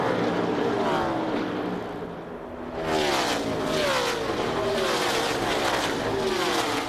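NASCAR stock cars race past at the 2003 Samsung RadioShack 500, engines roaring loud and continuous with rising and falling pitch sweeps as several cars pass, a brief dip near the middle before the roar swells again.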